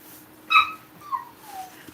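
A female dog in heat whimpering indoors: a short high whine followed by two fainter, softer whimpers, close by and quiet, with no talk.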